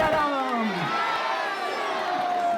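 A crowd at a school flag hoisting ceremony in India cheers and shouts loudly for an arriving religious leader, a dense, steady roar of voices with whoops and children's shouts, heard up close throughout.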